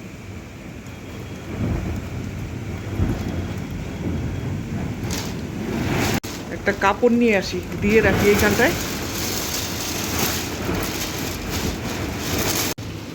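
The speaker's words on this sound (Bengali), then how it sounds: "এখন এমন ঝড় বৃষ্টি হচ্ছে" A storm with heavy rain roars as a steady wash of noise indoors, with rumbling gusts, while someone talks nearby over it.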